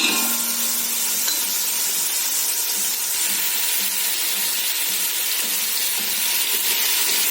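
Ingredients for chicken daalcha roasting in a pan, a steady bright sizzle that holds evenly throughout, heard close with no talking.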